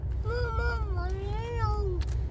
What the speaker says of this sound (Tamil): மீராண்ட மியாவு தானே.